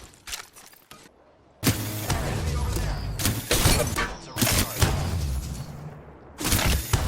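Loud, dense bursts of gunfire from a first-person shooter, firing in long sustained volleys with short gaps between them.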